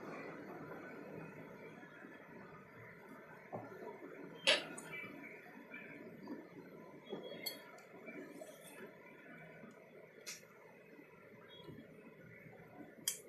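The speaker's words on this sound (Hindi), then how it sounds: "ये सबको हम मिक्स कर देंगे।" A spoon mixes black pepper, red chilli and ginger-garlic paste in a bowl for a vegetable egg omelette, giving a few sparse, faint clinks and ticks over a soft, steady background.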